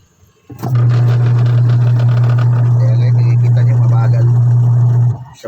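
A motor runs steadily at a constant loud hum for about four and a half seconds, then cuts off. It has a slow capacitor that has been tested. There is no talk over it.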